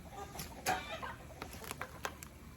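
Faint turkey gobbling in the distance from two turkeys, a few short bursts of bird calls over quiet outdoor background noise.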